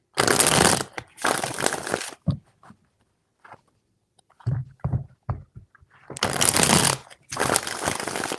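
Tarot cards are shuffled up close in four loud, crisp riffling bursts, two at the start and two at the end, with soft tapping and handling noises in the quieter stretch between them.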